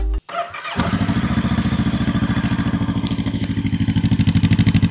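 An FKM ARY 500 motorcycle fitted with a stainless muffler starts up and settles into a close, loud, steady idle with a rapid even thumping exhaust beat.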